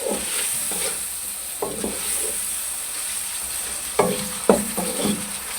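Spinach curry masala with crushed chilli and salt fries in a pan under a constant sizzle, with a spoon scraping and knocking in short bursts close by.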